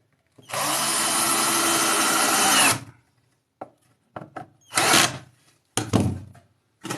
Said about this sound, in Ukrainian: я казав уже, що отвори свердлю.